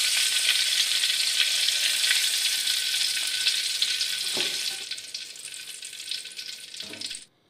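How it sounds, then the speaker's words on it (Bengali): Eggplant pieces fry in hot oil in a wok on a gas stove, a steady, bright crackling sizzle that continues without talk and cuts off abruptly at the end. "বেগুনগুলোকে ভালো করে আমাকে ভেজে নিতে হবে।"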